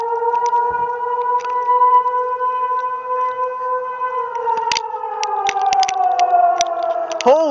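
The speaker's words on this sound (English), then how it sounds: "Siren should begin." A civil defense siren wails during a scheduled alarm test in Pae Park, Tallinn, one loud sustained tone that slowly drops in pitch near the end, with a few faint voices and clicks beneath it.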